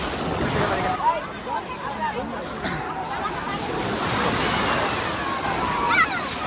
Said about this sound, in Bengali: ঢেউগুলো অনেক জোরে হইতেছে